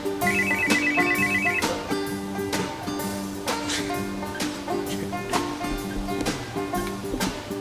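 A mobile phone rings with a repeating melodic ringtone, loud and close, looping steadily for several seconds with little else heard.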